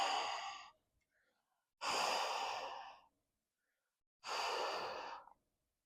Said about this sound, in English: I'm going to do that by just breathing onto the sensor.